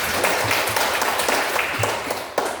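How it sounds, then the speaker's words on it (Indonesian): A class of students clapping their hands together in a dense, steady patter that carries on throughout, with a few louder claps standing out near the end and faint voices mixed in. "terima kasih, tepuk tangan semuanya"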